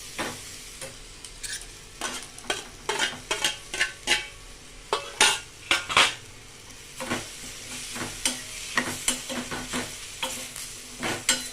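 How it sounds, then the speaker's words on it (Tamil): Ripe fruit sautéing in a pan with ghee over a low flame: a steady soft sizzle under repeated scraping and stirring clicks, close and fairly busy, with no voices. "ஸ்லோ ஃப்ளேமில் வச்சு நெய் விட்டு நம்ம நல்லா வந்து வதக்கிக்கலாம்"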